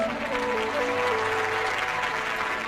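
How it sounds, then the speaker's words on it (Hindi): Audience at a church service applauding for children, a dense, steady wash of clapping that fills the whole stretch at moderate loudness. "जोर से तालियां बजाओ इन बच्चों के लिए"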